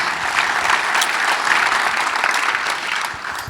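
An audience at a film festival closing night gives a round of applause for a film crew, a loud, continuous wash of clapping throughout.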